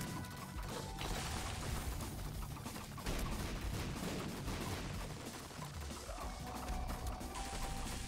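Continuous booming blasts and crackling bursts overlap in a dense, chaotic barrage of explosions in modded The Binding of Isaac: Repentance, loud throughout with no pauses.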